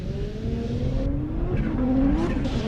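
A Pro 2 drag racing car at a Texas track launches hard, its engine screaming and rising steadily in pitch with tire noise, loud and sustained against crowd and track ambience.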